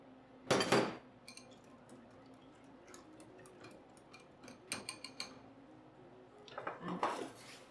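Milk, ghee and pepper are stirred together in a pan, with a few sharp metallic clinks and scrapes of utensil on cookware spread across an otherwise quiet kitchen.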